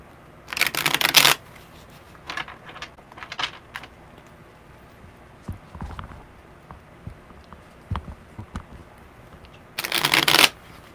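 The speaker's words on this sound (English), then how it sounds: "one more good shuffle" Two bursts of tarot cards being shuffled, close and loud, one at the start and one near the end, with scattered soft handling sounds between.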